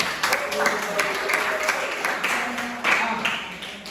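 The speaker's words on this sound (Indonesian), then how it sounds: "Aplaus dulu untuk kita semua hari ini" A class of students applauds in a classroom, with a burst of clapping that runs for a few seconds and then fades, mixed with voices.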